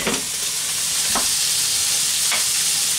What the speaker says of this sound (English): into your stock you're going to want to put your tomato puree.